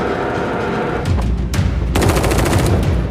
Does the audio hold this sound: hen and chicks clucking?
no